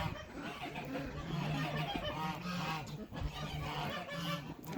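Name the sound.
farm duck calling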